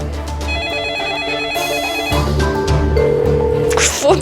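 A phone ringtone plays a repeating electronic melody, loud and continuous, with tones shifting in pitch.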